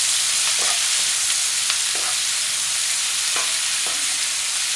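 Tomatoes being mixed into a frittata in a pan, a steady close sizzle of frying with several soft scraping stirs of a utensil over it, no voices.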